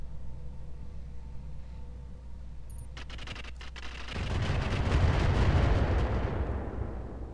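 Turrets open fire with artillery in the video game Roguetech, a BattleTech mod: a brief flurry of sharp cracks gives way to a dense, loud, continuous roar of barrage and explosions.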